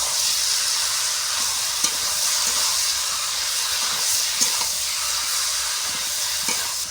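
Vegetables with onion paste, chilli paste, cumin and coriander sauté in a pan, giving a steady bright hiss of frying with a few faint stirring knocks, continuous and close, with no talking.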